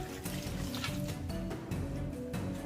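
Water poured onto bioactive terrarium substrate for a Poecilotheria tarantula enclosure to moisten it, a steady close splashing and trickling flow running continuously without pause.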